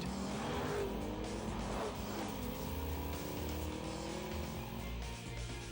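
A Ford Taurus SHO with a twin-turbocharged 365-horsepower EcoBoost engine roars steadily throughout, a continuous engine drone with faint tire noise, heard alone at moderate level in a TV commercial.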